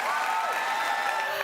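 A canned sound effect of applause plays in a TV studio at the Big Brother Australia 2021 live grand finale, a thick, even clapping that is mixed with sustained musical tones and runs unbroken.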